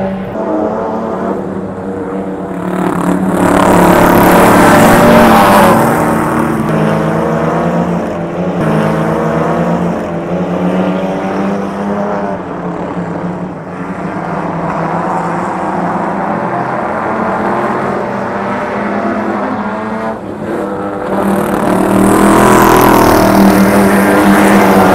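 Sedan race cars accelerate on a speedway track in Katherine, Australia, a loud continuous engine roar that swells and fades as the cars pass, with no talk over it.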